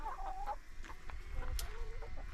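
Hens and a rooster cluck softly in their backyard run, a few short, close calls and murmurs over faint low background noise.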